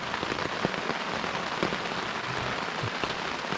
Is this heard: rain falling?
yes